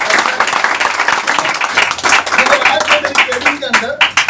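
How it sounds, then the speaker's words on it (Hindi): Loud applause and clapping from an audience at a motivational lifestyle seminar, a dense steady patter filling the whole stretch, with voices and crowd noise mixed in. "जोरदार तालियां हो जाए इनके लिए"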